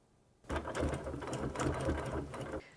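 A sewing machine stitches a quilt along a ruler in a rapid, steady whir of needle strokes that starts abruptly and runs for about two seconds before stopping.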